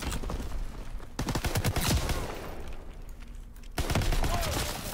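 Gunfire in a Call of Duty WW2 online match, including shots from a Springfield sniper rifle: sharp bursts of shots and rattling fire, loud and close, with abrupt cuts between bursts and a steady game-sound bed.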